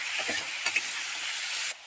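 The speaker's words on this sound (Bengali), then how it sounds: "এবার এটাকে ভালো করে ভেজে নেওয়া হবে।" Ginger garlic paste sizzles and fries in a hot pan while ghugni is being made, a steady close hiss with a few soft stirring clinks, with no voices present.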